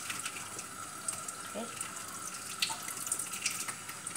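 Tap water runs steadily into a sink while sheep intestines are washed, a continuous close hiss with a brief spoken word over it.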